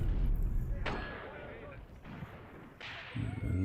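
Incendiary artillery shells strike in Graviteam Tactics: Mius Front, sharp explosive impacts landing at roughly one-second intervals with a rumbling low-end tail, heavy but somewhat distant, under ongoing battlefield noise.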